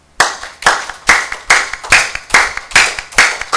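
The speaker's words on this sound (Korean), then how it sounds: "한번 손뼉 치볼까요?" A congregation at a Friday worship service claps together in a steady, loud rhythm, about nine sharp unison claps evenly spaced with no talking between them.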